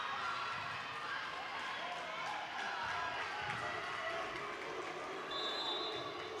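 A noisy high school volleyball crowd cheers loudly and steadily through a Wellsboro vs Williamsport match at set point, with a commentator talking over the din.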